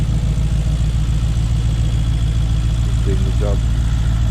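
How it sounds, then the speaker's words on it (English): A Nissan Skyline engine runs noisily at a steady idle, a loud constant low drone with a supercharger-like whine, as someone speaks briefly over it. "Just noisy. Sounds like a supercharger."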